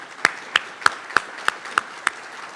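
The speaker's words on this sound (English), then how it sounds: "Let's give them all a round of applause." Applause at the Douglas County, Georgia State of the County Address, heard as about seven sharp, evenly spaced claps roughly a third of a second apart, close and distinct like one pair of hands, with no talking over them.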